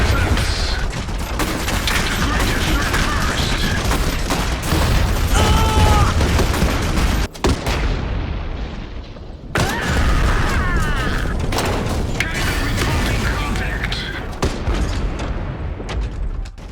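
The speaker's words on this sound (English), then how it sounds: "The SKS-300 Kaiser is a heavy mech unit produced by the Empire of Saxony." The SKS-300 Kaiser, a heavy mech of the Empire of Saxony in Iron Harvest, clanks and grinds mechanically while volleys of heavy gunfire and cannon blasts ring out. The loud, dense barrage runs nearly continuously, pausing briefly, with narration over it.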